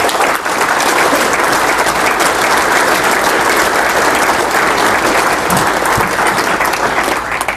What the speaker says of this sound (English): So let's give it up for our one and only Keith Tompkins